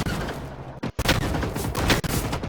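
Heavy sustained gunfire from a robot in Generation Zero, a dense stream of loud, close shots with a brief break near the start, then continuing without pause.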